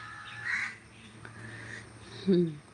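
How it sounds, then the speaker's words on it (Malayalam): A bird calls twice, a short cry early and a harsher caw near the end, over a quiet outdoor background. "ഈ കിളി കരയുന്ന കണ്ടോ കിളി കരയുന്ന"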